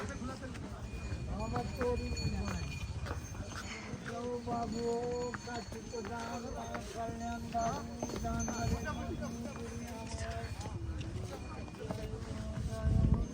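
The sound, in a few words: horses clip-clopping on a mountain path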